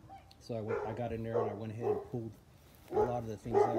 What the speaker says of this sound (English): Excuse the dog. It's barking.